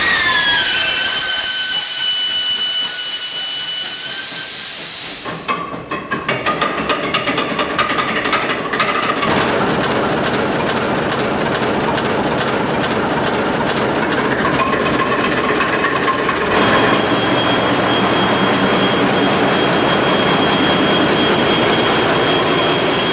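A 1,200-horsepower six-cylinder marine engine that once powered tugboats and compressor stations runs at a loud, steady roar with a rapid, pulsing rhythm. The sound breaks off and changes abruptly a couple of times.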